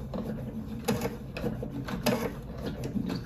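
Sewing machine slowly stitching through thick quilted layers of an oven mitt, a quiet, uneven mechanical whirring with a few soft clunks as the needle punches through.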